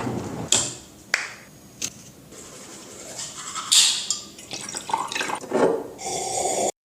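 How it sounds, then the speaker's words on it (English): Water splashes and trickles from a bottle as a mouth is rinsed, with drips, gurgles and sloshing in irregular bursts close up and no talking. "he opened a bottle of water to rinse his mouth out"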